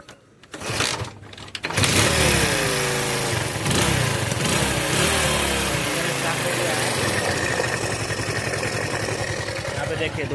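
Repaired motorcycle engine cranked, catching and settling into a steady, loud, buzzing idle after about two seconds, recorded up close in a bike service workshop with faint talk under the running engine.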